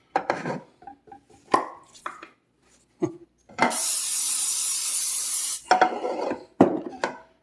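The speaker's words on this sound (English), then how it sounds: "I'm going to spray some more stuff in here" A steady hiss of cooking spray into a pan lasting about two seconds while making chicken piccata, with sharp kitchen clatter and knocks before and after.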